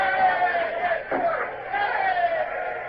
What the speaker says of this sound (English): What are those idiots cheering about?